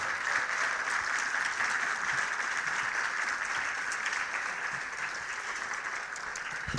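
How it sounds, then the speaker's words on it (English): Audience at a 35th anniversary peace and justice center event applauding steadily for several seconds, a dense even wash of clapping heard from within the hall, ending in a sudden bump. "Can I hear it one more time for Ann Wright?"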